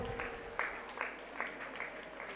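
Parents in the audience at a school annual cultural festival give brief, steady applause, a moderate wash of clapping with a few louder bursts and a faint voice underneath.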